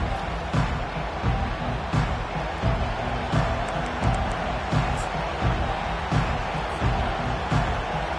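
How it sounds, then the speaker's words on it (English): A large home crowd at a Texas A&M college football game around kickoff gives a dense, sustained roar that swells in rhythmic pulses, loud and far-reaching across the stadium. "This crowd trying to show them what it's going to be like all day in this house"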